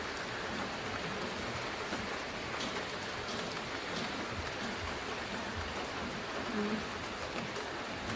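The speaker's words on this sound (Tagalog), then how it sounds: "Lakas ng ulan, oh." Heavy rain pours down steadily outdoors, a dense continuous hiss of drops drumming on surfaces, evenly loud throughout with no clear voices.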